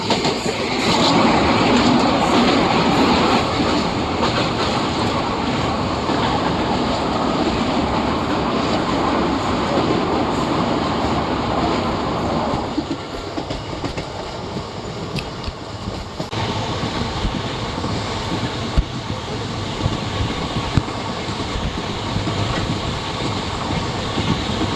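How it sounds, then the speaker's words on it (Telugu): Steady rumble and rattle of a passenger train rolling along the Narasapur–Vijayawada line, heard from inside a luggage van, loud and continuous with a shift in tone partway through and no talk. "ఫస్ట్ టైం అండి లగేజ్ కార్లో రైలు దారిలో అయితే"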